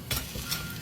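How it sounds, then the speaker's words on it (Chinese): Fish stir-fried with spices in a wok: a brief scrape and toss over a steady background sizzle, with two quick stirring strokes. "再次翻炒。"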